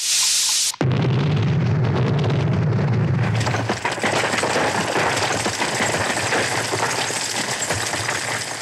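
A sudden loud blast in a 1983 fantasy TV series episode, breaking abruptly out of a brief tone and rolling into a sustained, dense roaring rumble that lasts to the end. No one speaks.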